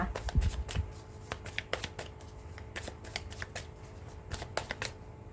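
Tarot cards riffled and shuffled by hand, a rapid run of crisp card slaps and flutters, fairly close and steady throughout with no talking.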